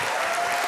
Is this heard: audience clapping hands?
yes